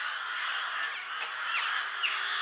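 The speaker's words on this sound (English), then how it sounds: "The crows are going crazy." Crows caw outside houses in a village, their calls faint and distant over a steady hissing background.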